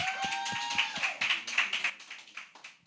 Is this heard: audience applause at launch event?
yes